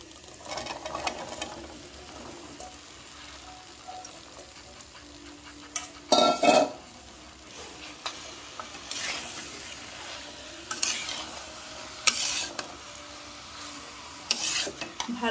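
Spoon stirring boiled chickpeas into fried masala spices and oil in a pan, with soft scraping and light sizzle, a few sharper clinks of utensil on the pan, fairly quiet and with no talk.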